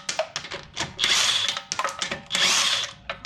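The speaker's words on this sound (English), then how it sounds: "You can use the gun now to just take them all out." An impact gun spins the lug nuts off a BMW 135i's wheels during a brake upgrade, giving two loud, close bursts of rattling hammering, each with a brief start and stop, with no talk.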